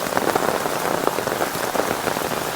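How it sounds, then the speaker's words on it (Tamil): Heavy rain pours down during a storm in Chennai, a dense, steady hiss of drops drumming on surfaces with scattered louder splats, loud and close with no voices. "பயங்கரமாக மழை பெய்ய ஆரம்பிச்சிருச்சு"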